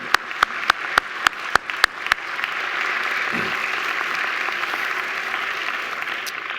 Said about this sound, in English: deserves another wonderful round of applause